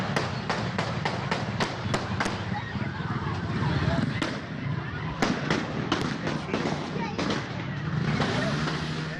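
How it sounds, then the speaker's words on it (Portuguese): Rapid sharp gunshots crack out in quick bursts during a motorcade, fired from a car, around twenty in all with short pauses between, over a noisy background with voices. "A carreata já estava quase no fim quando os disparos foram ouvidos."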